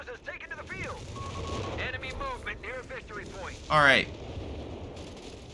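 Grenadier rifle fire in the real-time strategy game Company of Heroes 3 crackles under steady commentary, peaking in one loud sharp burst near the end as a voice talks over the battle.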